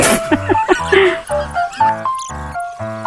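A puppy lets out a quick run of high, tonal yips and short barks, close and fairly loud, in a series of about eight bursts with brief gaps between them.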